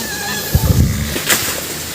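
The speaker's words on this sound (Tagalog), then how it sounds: "Lalaki ng mga kabayo nila dito" A large horse neighs outdoors at a mountain farm, a short whinny rising out of faint background noise, moderately close, with no talk over it.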